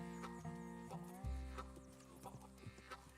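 Horse hooves from Red Dead Redemption 2, a light clip-clop of a horse moving close by with game sounds around it, fairly quiet and with no talking.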